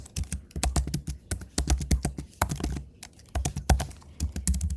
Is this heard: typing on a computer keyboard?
yes